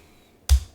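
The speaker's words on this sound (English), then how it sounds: "Tab key." A single crisp press of the Tab key on a computer keyboard, close and isolated against near silence.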